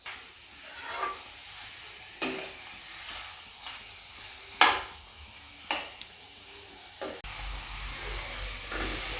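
Chicken frying in a pan over a high gas flame, with a soft continuous sizzle broken by several sharp scraping stirs of the spoon and no voices.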